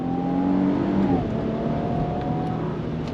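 A 2025 Infiniti QX80 full-size luxury SUV with a 9-speed automatic accelerates on throttle, its engine note rising steadily from the cabin, then dipping briefly at a shift before climbing again.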